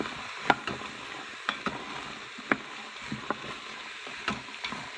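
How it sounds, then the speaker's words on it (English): A curried mung bean stew with vegetables is stirred in a pot, giving soft, irregular scraping clacks of a spoon over a quiet, steady simmering hiss, close and fairly faint. "I'll stir that around for a little while and come back"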